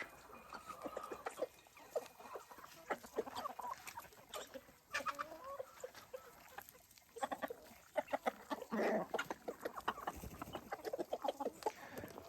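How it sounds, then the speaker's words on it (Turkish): Chickens cluck and chatter outdoors, several birds calling irregularly at moderate distance, with occasional louder squawks among soft background noise. "Evet tavuklarımızı saldık arkadaşlar. Bayağıdır dışarı çıkmıyorlardı."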